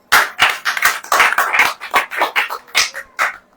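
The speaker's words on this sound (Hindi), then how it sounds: "ताली अब बजाओ।" Congregation clapping at a church service, a rhythmic run of about a dozen sharp, loud handclaps in steady time with brief gaps between them.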